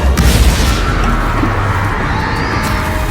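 A Confringo explosive spell blast in Hogwarts Legacy, heard as a loud, heavy boom at the start that decays into a sustained low rumble with a crackling tail.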